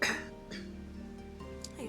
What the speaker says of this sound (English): am so sorry about the coughing.